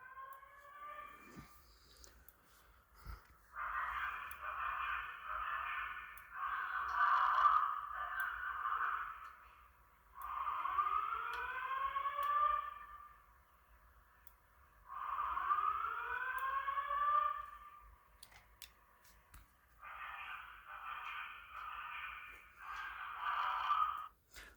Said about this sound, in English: Let's go and silence the alarm.